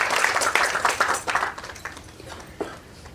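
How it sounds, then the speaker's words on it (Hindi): Temple devotees at a Hare Krishna temple in Potomac, Maryland clap loudly together, a dense burst of applause that thins out and fades over the last half, with a few scattered claps at the end. "और साथ में आप समस्त भक्तों के लिए जोरदार ताली बजाएं, खुद के लिए बजाइए।"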